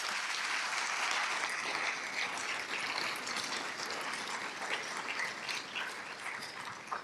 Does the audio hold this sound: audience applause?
yes